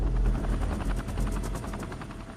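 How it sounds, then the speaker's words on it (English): Chinook helicopters flying over the Fukushima reactors to dump water, a loud close rotor thump pulsing rapidly and steadily with heavy low engine drone. "Chinook helicopters are drafted in to dump water from the air."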